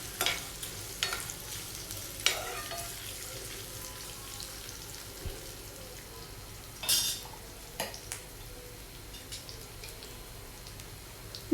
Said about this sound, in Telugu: రెడ్ చిల్లీ యాడ్ చేసిన తర్వాత ఇవన్నీ కూడా మరొకసారి కలిసేటట్టు మిక్స్ చేసుకోండి.